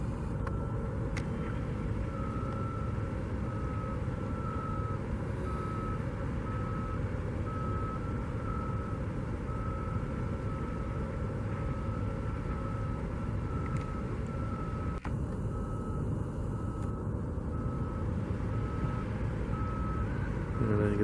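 A big water truck moves around a construction site at the Las Vegas Raiders headquarters. A steady reversing beep repeats in a regular rhythm over a constant engine and site rumble, with no talk.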